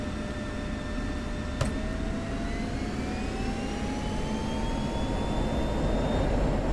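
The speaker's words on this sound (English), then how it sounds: "Alright, full afterburner." Roar of an F-16C jet engine at full afterburner in the DCS flight simulator, a loud steady rumble with a rising whine that climbs in pitch as the aircraft accelerates, with no voices.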